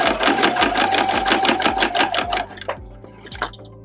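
Sewing machine stitching a zipper pull in contrasting fabric, a close, steady rapid run of needle strokes for over two seconds, then a few slower separate stitches as it stops and starts near the end.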